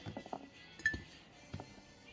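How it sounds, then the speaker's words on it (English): Onion pieces dropped into a glass jar of refrigerator dill pickles, giving a few soft thuds and light glassy clinks, quiet and close, spaced irregularly over about two seconds. "now I'm going to throw some onions in"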